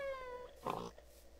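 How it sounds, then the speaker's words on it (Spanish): A cat in a video game gives a short meow, a brief tonal cry followed by a louder burst, heard faintly and close over quiet game background sound. "Eso este es un gato. ¡Oh, un gato!"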